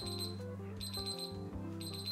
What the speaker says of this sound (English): I can set the temperature to 180, then I guess it'll beep when it's ready.